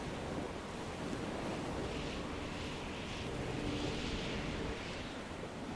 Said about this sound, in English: So here come the waves again, the heavy weather